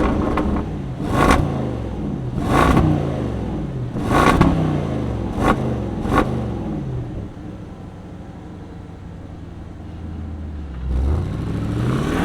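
A 2025 Land Rover Defender 130 with a supercharged V8 revs in several sharp, loud blips spaced a second or so apart, then settles into a deep rumbling idle with one more swell near the end.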